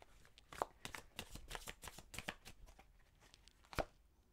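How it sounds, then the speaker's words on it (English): Tarot cards being shuffled by hand, a quick series of crisp riffling flicks and slaps with a couple of sharper snaps, close and fairly quiet, with no talking. "Oh my God, I just shuffled a lot."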